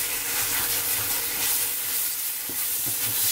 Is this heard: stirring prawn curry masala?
yes